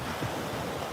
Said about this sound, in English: Look at these waves.